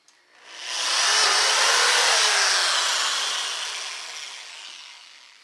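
A power tool cuts a hose hole through the lid of a plastic bucket for a bait-tank water filter, giving a loud, steady high-pitched whine that starts abruptly, holds for about four seconds and then tapers off.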